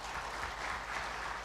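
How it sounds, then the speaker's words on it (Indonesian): Applause from a crowd at a university graduation ceremony, a steady wash of many hands clapping at an even level throughout, fairly faint. "Tepuk tangan yang meriah dulu"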